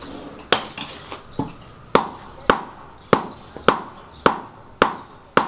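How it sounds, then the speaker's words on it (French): Hammers strike metal again and again in a medieval-style forge class, about nine sharp ringing blows in a steady, fairly loud rhythm with short decays between them. "vous allez me prendre un marteau. On va commencer la fabrication d'un coup."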